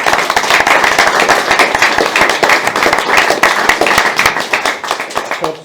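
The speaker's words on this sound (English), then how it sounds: "So can we give them all a round of applause?" A dense round of audience clapping at an awards dinner, honouring hard-working local volunteers, loud and steady throughout with some voices mixed in.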